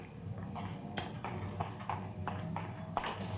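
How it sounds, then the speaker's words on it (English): Muffled, rhythmic mechanical thumping of a printing press running steadily inside a print shop, heard at a moderate distance with regular repeating beats. "Sounds like a press, doesn't it?"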